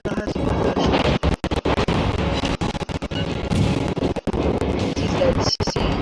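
Naval guns fire in World of Warships amid a dense, loud battle roar. Heavy crashing blasts and rumble continue almost without pause, with a few sharp cut-off gaps.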